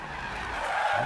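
Tires skid and squeal on a BMW M4 in Need for Speed 2015, a brief continuous screech over engine roar, fairly close and steady.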